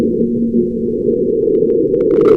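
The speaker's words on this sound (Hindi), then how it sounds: "तो सबसे पहली आवाज मार्सक्वेक की है।" A marsquake on Mars, recorded by the InSight lander in 2019, comes through as a continuous low, muffled rumble. It holds for a couple of seconds, with faint higher creaks emerging near the end.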